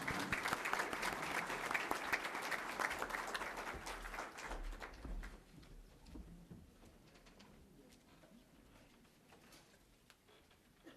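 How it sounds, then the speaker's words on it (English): An audience at a volunteer fire company awards ceremony applauds, loud and dense at first, then thinning out and fading over several seconds as a pigeon coos faintly in the background. "Now let's give a round of applause for the members of the Honor Guard and also for our fire prevention ambassadors for a great job"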